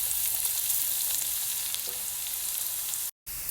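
Ricado aromatics sautéing in hot oil until golden brown for chicken adobo, giving a steady, close, dense sizzle and crackle with no talk and a brief cut-out near the end.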